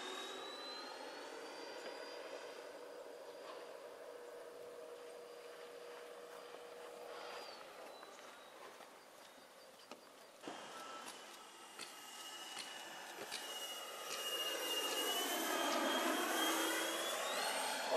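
A large DIY radio-controlled scale model Airbus A350 airliner flies with its jet engines making a loud, continuous turbine whine that holds steady and then sweeps down and back up in pitch as it passes, with no voices.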